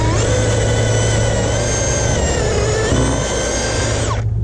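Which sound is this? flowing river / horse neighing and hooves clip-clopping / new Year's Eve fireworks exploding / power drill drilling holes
power drill drilling holes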